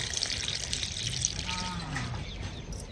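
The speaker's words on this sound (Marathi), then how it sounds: "आता दुसऱ्या पाण्याने आपण भाजी धुवायची" Pathari bhaji greens swished through a second rinse of water, producing a continuous soft close-up sloshing and trickling for a few seconds with no voices.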